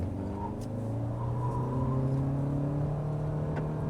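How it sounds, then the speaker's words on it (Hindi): Toyota Camry engine held at about 2500 RPM with the brake pressed, a steady, fairly quiet drone with a faint rising tone and no speech over it. "ब्रेक प्रेस करूँगा, इंजन रैव करेगा अराउंड 2500 RPM के आसपास।"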